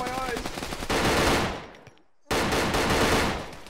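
Rapid, loud assault rifle bursts in the game Arma 3 fill the air, a sustained stream of shots that breaks off for a moment, then resumes at full intensity.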